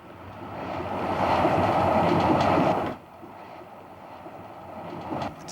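A tilting high-speed train rushes past, a broad roaring swell that builds over a couple of seconds and then cuts off abruptly, leaving a quieter rumble behind.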